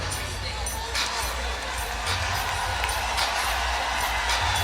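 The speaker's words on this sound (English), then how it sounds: "She gets the round of applause as she takes the trip to the bench" Arena crowd noise during an NCAA women's basketball tournament game, Utah versus Texas: a steady, broad wash of distant applause and hubbub as a player walks to the bench, continuous and even throughout.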